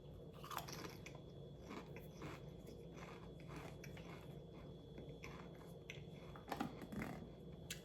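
Salt and vinegar Pringles chips crunch between the teeth in steady, quiet chewing, with a few sharper bites near the end and a low background hum throughout.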